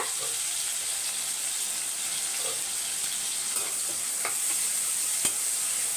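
Tomatoes sautéing in a pan, a soft steady sizzle with a few faint stirring scrapes and clinks, close and fairly quiet.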